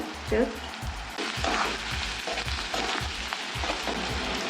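Boiled potatoes land in a hot pan of oil spiced with turmeric and red chili powder for aloo palak, setting off a loud, steady sizzle with stirring clatter and thumps throughout.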